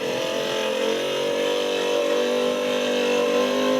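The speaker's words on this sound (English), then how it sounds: "Right, I've quickly installed the motor we've just rebuilt. Let's see how noisy it is now." A freshly rebuilt door window motor in a Porsche 928 runs with a steady, close-up mechanical whine and hum for about four seconds, even in level and free of talk.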